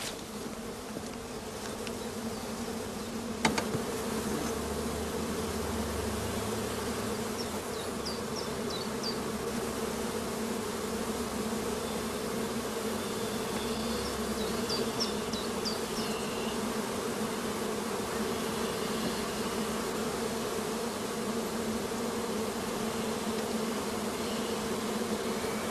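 Dense, steady hum of honeybees buzzing continuously at an apiary in spring, a close, even drone with faint background chirps and one brief knock early on.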